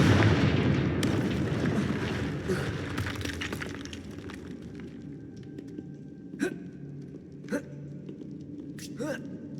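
A Confringo blasting curse in Hogwarts Legacy goes off with a loud rumbling burst that slowly fades, followed by a few sharp crackling impacts, with a voice heard now and then.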